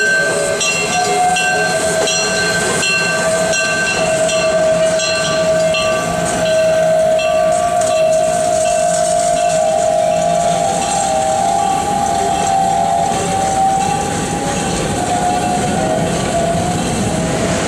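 A train at the Old Threshers railroad in Mount Pleasant, Iowa, passes close and loud as a continuous rumble with a sustained horn-like tone, wheels clattering steadily throughout, no talk.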